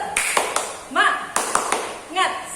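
A class of children claps along in the tepuk semangat clap game, sharp scattered claps and taps in a rhythmic pattern mixed with voices chanting.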